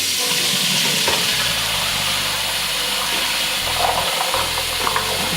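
Mixed canned beans rinsed under running water in a strainer for coconut chili, a steady loud rushing hiss with occasional soft clinks and shuffles as the beans are tossed.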